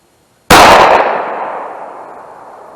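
One loud, sharp 9mm Critical Defense Lite pistol shot fired into ballistic gel, with a sudden crack followed by a long decaying echo.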